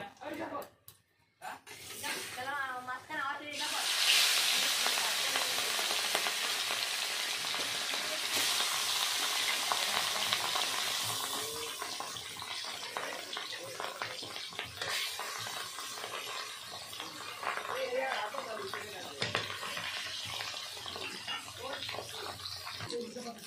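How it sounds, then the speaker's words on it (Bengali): Salted, turmeric-rubbed rohu fish pieces go into hot oil with a sudden loud hiss that settles into a strong, continuous sizzle and crackle, with occasional spoon scrapes. "তেলটা গরম হয়ে গেছে, এখন আমি মাছগুলো ভেজে নেব।"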